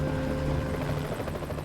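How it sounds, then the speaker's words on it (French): A French Navy rescue helicopter flies along the Normandy coast, its rotor giving a steady, droning thrum at moderate distance with no talking. "En suivant l'hélicoptère de la Marine nationale,"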